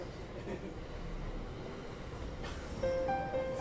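A metro train sits at a station in the anime film Your Name, a broad rumbling hiss of the carriage and platform ambience, followed by a clear sustained electronic tone near the end.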